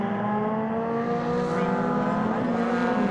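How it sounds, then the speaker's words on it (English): Race cars at the Brooklands hairpin on a circuit scream hard under acceleration, with rising harmonic engine whine rolling by, loud and continuous, and a commentator talking over it. "The cars accelerate now up towards the braking zone for the Brooklands hairpin"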